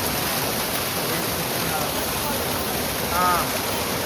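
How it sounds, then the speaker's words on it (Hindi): Artificial waterfall spilling between hills beside an expressway, a steady broadband rush of falling water that runs unbroken and fairly loud throughout, with a faint brief whistle near the end. "ये पहाड़ों के बीच में से पानी आ रहा है, वाटरफॉल देख सकते हैं आप। पानी गिर रहा है, ये आर्टिफिशियल"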